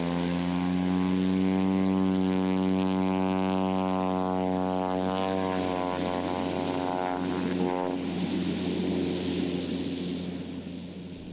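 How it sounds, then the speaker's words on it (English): A propeller plane takes off from a dusty bush airstrip in Africa, its loud droning engine rising in pitch and then fading as it climbs away. "In a cloud of dust, the plane takes off"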